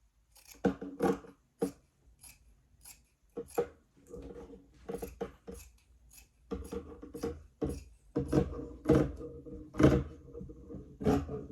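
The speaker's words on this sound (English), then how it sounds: "Okay, so I'm going to just cut like this." Scissors snipping through prom dress fabric while cutting along a pattern, a steady run of crisp close-up cuts in short bursts, growing denser and louder toward the end, with no talking.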